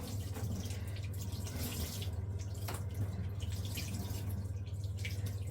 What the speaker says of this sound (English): I'll rinse them on warm, or at least not freezing.